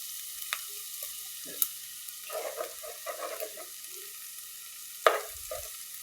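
Sausages fry in a pan with a faint, steady sizzle, broken by soft scraping stirs and a few light clinks of a utensil.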